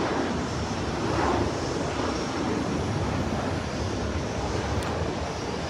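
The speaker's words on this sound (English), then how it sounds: "let's see if we're watching the takeoffs" Jet airplanes take off at London Heathrow airport, a constant broad engine roar mixed with wind buffeting the microphone, loud and steady throughout with no talking.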